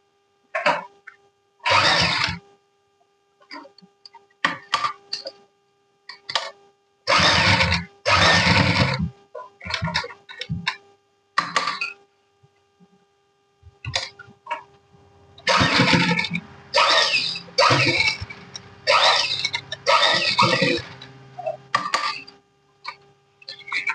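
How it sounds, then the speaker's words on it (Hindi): A sewing machine stitches the seam of a small fabric bag keychain, running in loud bursts of rapid mechanical clatter separated by short pauses, with a steady electric hum underneath. "अब हम पूरी सिलाई लगा लेंगे।"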